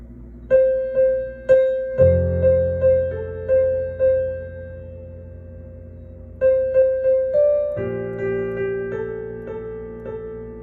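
Solo piano plays the first two parts of a song: a repeated melody of struck notes with a low bass line joining partway through, each note decaying, played alone and close.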